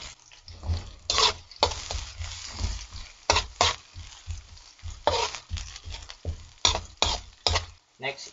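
Garlic and onion sautéing in a pan for spicy coconut-milk snails with toasted garlic, with a soft sizzle under repeated spatula scrapes and stirring clatter, close and steady.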